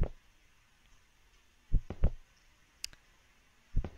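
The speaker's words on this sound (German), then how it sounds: "der Herzschlag hat aufgehört" In the horror video game One Late Night, set in an empty office at night, a low heartbeat thumps in soft pairs against a quiet, hissy background, with a faint click in between.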